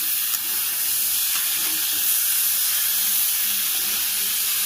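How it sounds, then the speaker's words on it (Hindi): Potatoes and cauliflower fry in a pan for an Annakut offering vegetable dish, giving a steady, close hiss and sizzle that runs unbroken with no voices. "आलू और गोभी थे, इन्हें पहले भूनना था, अब हम भून लेंगे इन सबको"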